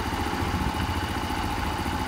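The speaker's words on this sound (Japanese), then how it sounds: "安定してるアイドリング" A Honda Super Cub engine, revived after nearly four years left outdoors, idles steadily with an even low putter and light mechanical clatter, close and unbroken throughout.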